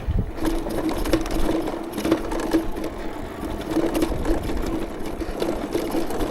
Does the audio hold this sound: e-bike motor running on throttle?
yes